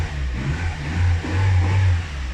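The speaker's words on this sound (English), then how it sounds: "Just start it, let it idle, give it a little bit of throttle." A Nissan Micra K11 engine starts and idles, then revs up twice with a little throttle during a radiator and thermostat change, a steady close engine drone rising and falling without any talk.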